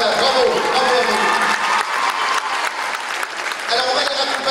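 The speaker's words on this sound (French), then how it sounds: "je vous remercie de leur faire un tonnerre d'applaudissements parce qu'elles sont superbes" A hall audience at the 2013 Reine de Mèze pageant evening applauds the contestants, a loud, thick burst of clapping mixed with crowd voices and cheers that dips briefly midway, then swells again.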